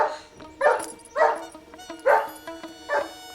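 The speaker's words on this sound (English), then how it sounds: "That dog would eat Rocket." A dog barking outdoors, five sharp barks spaced about half a second apart, loud and close, with no talk over them.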